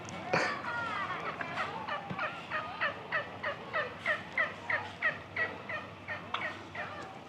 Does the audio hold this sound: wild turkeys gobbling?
yes